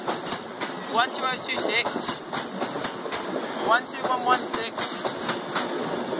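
Trains rolling past Thorpe Junction near Norwich, with a continuous rumble and rhythmic clickety-clack of wheels over rail joints, faint squeals, and a person speaking briefly over the passing stock.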